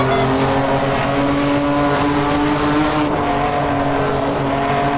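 Porsche 993 GT2 EVO flat-six turbo race car braking hard into a corner on track, a loud, continuous engine drone from close by with a steady pitch drop as the car slows.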